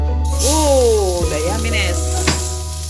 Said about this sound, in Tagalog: paggigisa, papulahin natin ng mapula ang ating bawang para mabango ang ating lulutuin